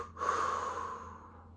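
A slow, deep exhale during a guided breathing exercise: a single long, soft breath out, close to the microphone, starting firmly and fading gradually over about a second and a half, with no talk.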